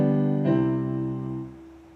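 A perfect cadence played as a chord progression on a sustained, harmonically rich instrument, one held chord moving into a second that rings out and slowly fades, with no talking.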